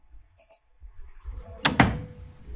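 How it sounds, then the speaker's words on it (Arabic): A door thumps shut with a quick double knock near the end, preceded by faint handling clicks in an otherwise quiet room. "هنا صوت باب"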